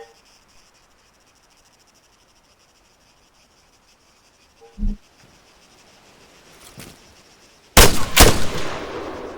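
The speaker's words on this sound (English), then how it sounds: "When you're ready, put some rounds down range." A sergeant fires rifle rounds down range in ArmA 3 boot camp: a single sharp shot, then a fainter one, and finally two loud close cracks with ringing tails over a quiet cricket-filled backdrop.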